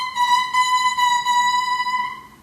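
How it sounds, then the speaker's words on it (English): An oboe double reed blown alone, its two bound blades buzzing into a steady, bright, squeaky tone that holds for about two seconds, close and loud before fading. "When I blow through it, it makes a squeaky sound because the two blades are vibrating like this."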